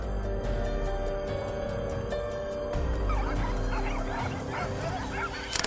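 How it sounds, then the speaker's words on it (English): A pack of hunting dogs bays during an outdoor wild boar hunt, overlapping barks and yips rising out of a noisy, wind-rushed background, mostly in the second half. "chased down by a pack of hunting dogs"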